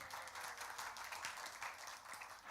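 A congregation at a church service claps together, a moderately faint but continuous patter of many hands that pulses slightly across the whole clip.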